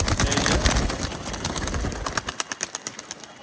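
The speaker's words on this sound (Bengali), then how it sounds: "এই যে পায়রাগুলি উড়ে গেল।" Teddy pigeons released from a rooftop flap off in a loud flurry of wingbeats that thins into scattered, separate flaps and soft fluttering as the birds climb away.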